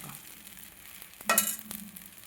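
A sponge dosa sizzles softly in a pan just after being flipped, with a brief louder hiss of frying in the middle over a quiet background.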